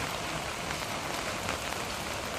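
Rain falling steadily at a rural village house in the morning, a dense even hiss of drops striking surfaces nearby, continuous and unbroken with no voices.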